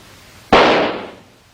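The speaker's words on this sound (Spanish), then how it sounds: "Cuando el petardo explotó, hizo mucho ruido, ¿no es así?" A single sharp firecracker bang erupts after a brief hush, then its echo fades away over about a second.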